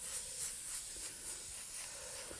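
An airbrush hisses a soft, steady stream of air across a painting board, faint and continuous with small fluctuations, with no talk over it.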